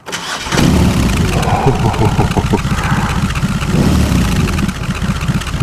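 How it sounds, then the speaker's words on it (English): A BMW R18 Bagger motorcycle engine cranks and fires after a brief silence, then settles into a loud, close, steady idle with a deep pulsing exhaust note. "you should also hear the exhaust note"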